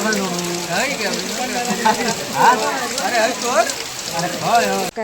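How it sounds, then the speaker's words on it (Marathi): Heavy rain pours steadily in the Konkan region, a dense continuous hiss of drops on surfaces that runs through the whole stretch while people talk over it in the foreground. "आता पाऊस बघा किती पडता"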